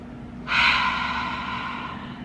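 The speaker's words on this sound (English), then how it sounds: "Deep breath." A single deep, audible inhalation begins half a second in and draws out steadily before easing off, close and breathy over a quiet background, during a calm EFT tapping session.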